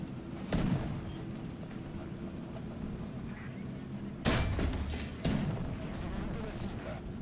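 A tank cannon in War Thunder fires two heavy booms a second apart, each with a rumbling tail, against a low steady engine hum. An earlier muffled thump sounds farther off, and a player talks at times.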